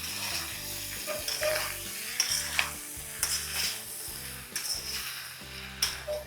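Madras-style chicken fry with lemon juice and coriander is stirred in a sizzling pan, a rhythmic scraping of a spoon against the pan over a continuous close frying hiss, with no voices.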